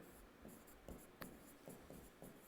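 Marker or chalk strokes on a board during a chemistry lesson, a series of short scratchy scrapes in an irregular rhythm, close and fairly quiet, with no talking over them.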